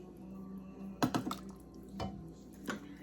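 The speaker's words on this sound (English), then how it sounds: "Oh, I'm splashing everywhere" Liquid chicken soup sloshing and dripping from a spoon into a bowl, with a few distinct splashes and drips at close range and no talking.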